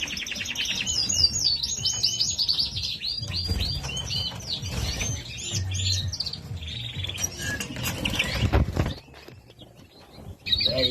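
Caged Norwich canary hybrids chirp and twitter busily and close, with quick bright trills and calls running on through the whole stretch, and no talk.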